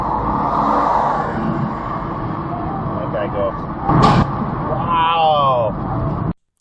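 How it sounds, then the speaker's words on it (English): A car tire blowing out on a highway gives one sharp broadband burst near the middle, over steady road and traffic noise, with people talking throughout. "that was the sound of that guy's tire exploding on the highway"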